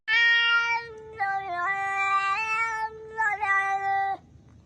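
A person imitates a cat with a sung, drawn-out meow in a children's song, a clear, near, melodic wail that holds for about four seconds with small pitch steps and no other sound.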